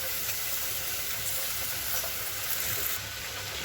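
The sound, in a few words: rice sizzling as it is sautéed with onion and spices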